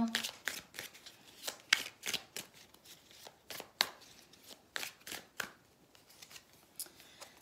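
Tarot cards are shuffled and drawn in quick, crisp bursts of riffling and snapping, close and fairly quiet, with faint talk in the background.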